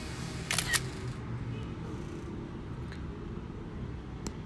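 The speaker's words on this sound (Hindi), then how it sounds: "पिक्चर खींचता हूँ" An iPhone camera, a South Korean version, fires a quick double-click shutter sound as a picture is taken, sharp and close against quiet room hiss, followed by a few faint ticks.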